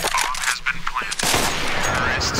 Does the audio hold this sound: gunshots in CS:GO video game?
yes